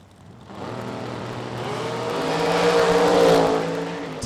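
Top dragster race cars launch down a drag strip at a racing revival event, a loud roaring engine rising in pitch and volume over a few seconds as the cars accelerate away, with no talk.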